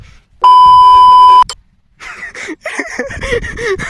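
A steady electronic censor tone added in editing blares alone for about a second, then cuts off and chatter and handling sounds follow.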